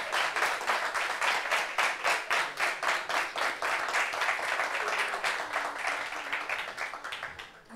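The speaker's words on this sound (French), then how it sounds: "Applaudissements pour Kwadio Marius." Studio audience applause welcoming a guest on a talk show set, starting as rhythmic unison clapping in a steady beat, then loosening into scattered clapping that fades toward the end.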